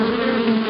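Loud, steady buzzing of bees close by, a continuous droning hum with no talk over it.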